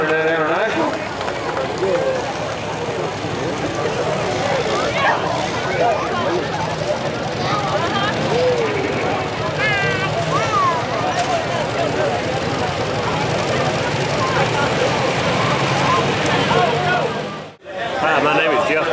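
An International tractor makes a pull run at the Hillsboro tractor and truck pull, a loud, sustained engine roar that holds for most of the clip before cutting off near the end. Crowd noise and talk sit over it.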